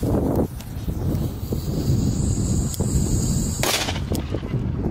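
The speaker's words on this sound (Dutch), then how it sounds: "Het is echt een heel klein knalletje" A Dum Bum F2, a very small firecracker, goes off with a sharp bang near the start, followed by a crackling burst later on. The noise is steady outdoors, with wind rumbling throughout.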